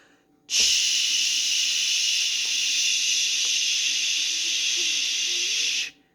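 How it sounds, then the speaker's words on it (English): A steam iron releases a steady, loud hiss of steam onto fabric appliques, starting abruptly and running unbroken for about five seconds before cutting off. "So if I was using my steam feature on this, I would go"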